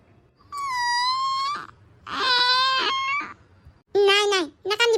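A cartoon kitten cries loudly in a voiced imitation, letting out three long, high, wavering wails with short pauses between them, followed by a brief clipped cry.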